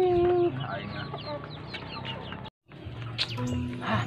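Chickens cluck close by in a busy farmyard, with short overlapping calls and squawks, broken by a brief moment of silence before more clucking resumes.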